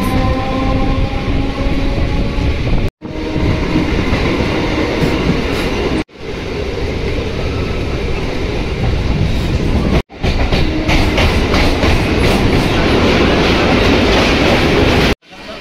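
Kolkata circular rail train running between Howrah-side stations near Eden Gardens, a loud steady rumble with rhythmic clatter of wheels on track, continuous and close, broken by a few abrupt cuts.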